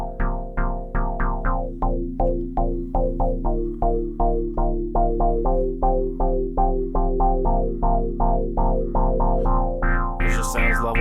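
A synth fed through its own distortion section plays a rhythmic pulsing sequence of gritty, saturated notes, steady and loud, with a brighter burst of noise near the end.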